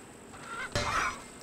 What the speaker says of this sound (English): Yeah, there's like two more chickens out here, bro.